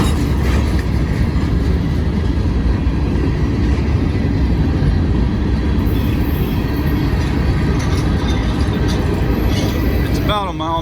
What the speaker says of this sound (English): There's 2 trains right now coming.